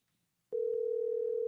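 A phone call is placed and a steady continuous telephone tone starts abruptly after a brief silence, loud and close, holding without pause to the end.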